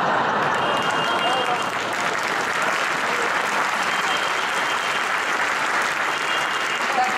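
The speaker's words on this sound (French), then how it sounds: "si vous applaudissez trop" Applause from delegates at a Socialist Party congress, a broad, continuous roar of clapping from a large crowd, steady and full, with a faint voice or two mixed in.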